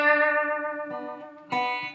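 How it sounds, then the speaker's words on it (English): Electric guitar notes ring with a smooth vibrato and a shimmering, reverb-like effect, with one sustained tone fading before a fresh note is struck, played alone and close. "creating the shimmering, almost reverb effect to it."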